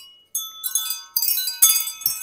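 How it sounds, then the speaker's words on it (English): Small metal bells on a hanging turtle decoration jingle and tinkle in a few bright, close bursts, separated by short silences, with no voices over them. "you got your turtles all down in here with the bells"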